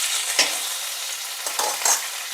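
Dried red chillies and curry leaves frying in hot oil with cumin, a steady close sizzle with a few sharp crackles and stirring scrapes, no talk.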